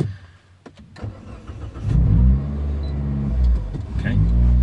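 400bhp Mini R56 engine cranking over and firing up close by, with a few clicks and the starter whirring before it catches into a loud, steady idle that lifts slightly.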